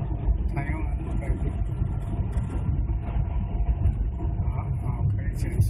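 A manual-transmission car's engine hums during an on-road driving lesson, a steady low rumble with road noise that stays even throughout, heard from inside the cabin.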